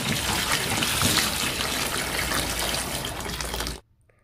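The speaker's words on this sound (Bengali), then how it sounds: "এবার আমগুলাকে কল দিয়ে খুব ভালো করে ধুয়ে নিচ্ছি।" Raw green mangoes washed under a running kitchen tap, a loud, continuous close splash and gush of water that stops abruptly just before the end, leaving near silence.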